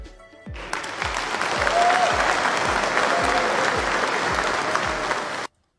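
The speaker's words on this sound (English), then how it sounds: "That's a lot of people clapping at 5:30 in the morning." A studio audience at an early-morning show breaks into sustained applause, many hands clapping in a dense, even roar that swells, holds steady, then stops abruptly.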